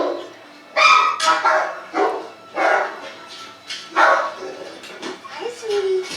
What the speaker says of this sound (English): 70-pound hound who is doing all the barking.